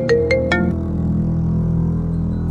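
A phone rings in a Hindi horror story: three short, bright electronic chimes in quick succession, followed by a steady, sustained tone over a low background hum.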